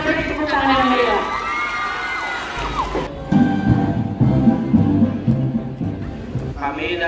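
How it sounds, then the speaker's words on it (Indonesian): A school audience at a junior high student council candidate event in Kuningan cheers and shouts loudly, with children's voices whooping over a dense crowd roar that swells midway and continues steadily to the end. "Semuanya beri tepuk tangan yang meriah."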